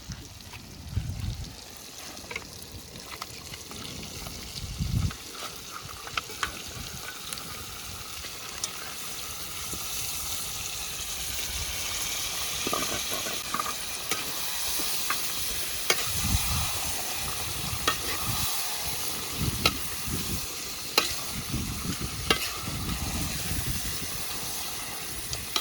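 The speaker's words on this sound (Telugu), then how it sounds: "ఇప్పుడు మనం తలకాయ కూర వేసుకుందాం." Goat head meat pieces fry in a pan with green chillies and turmeric, a continuous close sizzle broken by repeated scraping and stirring strokes, with no talking.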